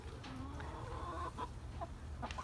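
Chickens cluck and squawk in short bursts over a low, steady background hum, fairly faint and scattered.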